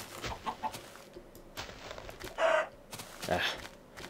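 Chicken clucking in the Minecraft video game, a few short clucks popping up over faint background sound.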